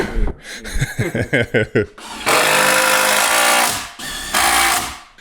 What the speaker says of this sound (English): So John's pre-drilling the backboard now.